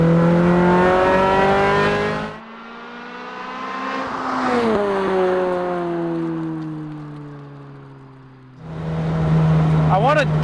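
A Toyota MR2 with a swapped Camry 2AR engine accelerates hard through its gears. The loud engine drone climbs in pitch, dips at each shift and then surges again, with a short quieter stretch between pulls.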